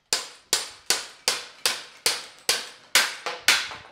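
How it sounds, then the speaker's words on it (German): Hammering a star nut into a bicycle headset during a Yeti SB-130 build in a Munich bike workshop: about nine sharp, evenly spaced metallic blows, close and loud, each ringing briefly before the next. "Die Headkralle wird eingeschlagen."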